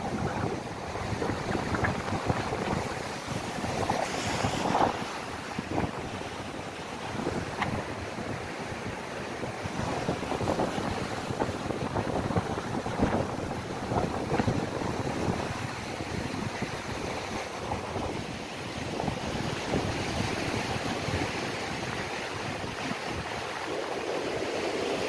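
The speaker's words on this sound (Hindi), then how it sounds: "उम्मीद है कि पानी के शोर की आवाज आ रही होगी." Ocean waves at St Francis Bay in the Eastern Cape, South Africa, roll and crash continuously in a steady roar, mixed with gusty wind buffeting the microphone.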